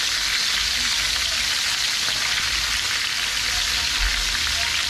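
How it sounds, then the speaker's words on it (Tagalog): Pork belly, a kilo of it, sizzles and crackles steadily in hot oil in a pan, a loud continuous spattering hiss with no pauses. "Isunod natin ang karne pag mainit ng mantika. Lagay natin ng maayos ang karne."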